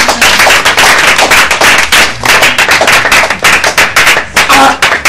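A church congregation breaks into loud, dense, rapid clapping that goes on for the full stretch with an uneven, crackling rhythm. No distinct voices stand out.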